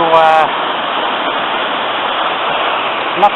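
Steady roar of a waterfall at Ffestiniog, loud and continuous throughout, with a short burst of someone speaking at the very start and a faint vocal sound at the end.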